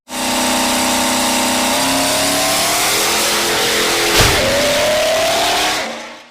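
Supercharged twin-turbo 7.1-liter 427 cubic inch Duramax diesel revving loud and close, rising pitch sweeps and a sharp burst of throttle midway, then settling back before cutting off.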